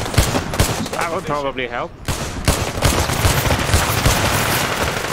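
Loud bursts of automatic gunfire in the VR shooter Zero Caliber VR, crackling in rapid volleys with a brief lull, while someone talks over the shooting.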